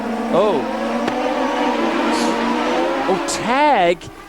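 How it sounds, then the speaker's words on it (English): Champ Car race cars on a Toronto street circuit, engines wailing and shifting as they pass, with a sharp tire squeal late on as one car is clipped on its left rear wheel and spins. "Tag actually catches the left rear wheel of Servia and actually begins to spin Servia"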